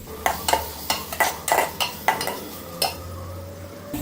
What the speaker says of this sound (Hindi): अब इसके बाद हम टमाटर जो चॉप किए हुए हैं वो डालने लगे हैं, वो डाल दिए अब इसके अंदर।